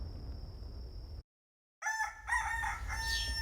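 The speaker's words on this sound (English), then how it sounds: "They make that cock-a-doodle-doo 40 fucking times." In an episode of the Vinland Saga anime, a rooster lets out one loud, clear cock-a-doodle-doo after a brief silence, following a thin steady tone over a low background rumble.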